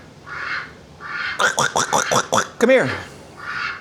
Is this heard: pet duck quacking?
yes